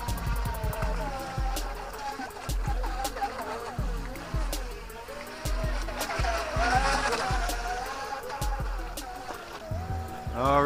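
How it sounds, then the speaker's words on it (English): Feilun FT012 brushless RC speedboat running on a lake, a strained electric motor whine that rises and falls as the hull skims and splashes, with rhythmic low thumps and voices talking faintly over it. "that's a Feilun FT012 brushless speedboat"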